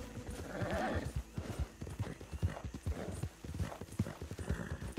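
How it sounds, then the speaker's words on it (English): Horse in the Red Dead Redemption 2 video game, agitated by a nearby alligator, with rapid clip-clop hoofbeats throughout and a brief whinny near the start, close and fairly loud. "Horse is agitated by a predator."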